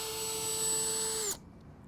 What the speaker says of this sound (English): Let's put our drill down.